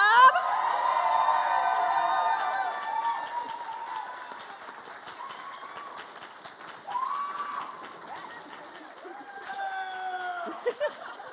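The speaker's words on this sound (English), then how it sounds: "can we give it up one more time for the residents of Drag Club?" Audience applauding and cheering for drag club performers at a live show, a steady wash of clapping with whoops rising and falling over about eleven seconds while an emcee talks over the crowd.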